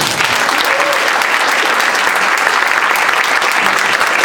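An audience at a Throggs Neck homeowners association forum for 13th Council District candidates claps steadily, a dense, even wash of applause that holds at full strength the whole time.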